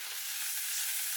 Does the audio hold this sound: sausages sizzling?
yes